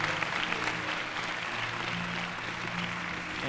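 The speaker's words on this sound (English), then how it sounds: "Let's give them one more round of applause" Audience applause at a Salute to Women in Leadership event, a steady broad patter of many hands clapping, fairly close and continuous, with no talk.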